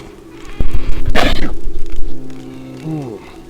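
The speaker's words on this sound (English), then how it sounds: "Sorry about that sneeze." One sudden, loud sneeze bursts out close to the microphone over a low steady hum, then fades into quieter background noise.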